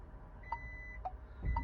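Three short, faint electronic beeps from the power tailgate button of a SsangYong Rexton Y451 sound at even intervals, quiet and close, followed by a low rumble as the tailgate begins to move.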